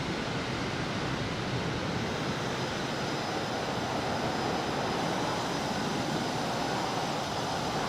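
Steady roaring jet engine drone from a Harrier jet in Microsoft Flight Simulator 2020, a broad continuous rush with no talk over it, holding constant loudness throughout.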